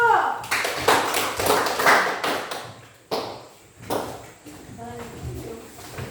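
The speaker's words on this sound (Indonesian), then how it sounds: "beri aplaus dulu" A small audience claps after a pantun recital in a class setting, with short bursts of scattered hand claps that swell, die away and pick up again more faintly.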